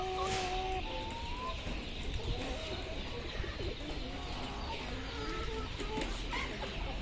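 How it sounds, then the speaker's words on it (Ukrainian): Poultry at a market, chickens, ducks and geese, clucking and calling continuously in a noisy crowded setting, with a pair of sustained higher calls near the start. "Це тільки кури, качки, гуси."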